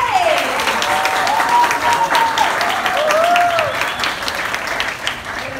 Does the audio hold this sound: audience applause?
yes